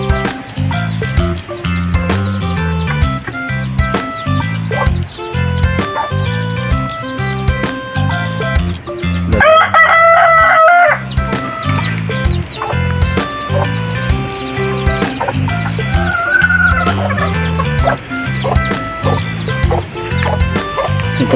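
Hens clucking in a backyard coop where they are laying eggs, repeated close clucks and squawks with a brief louder burst midway, continuous throughout with a busy farmyard bed.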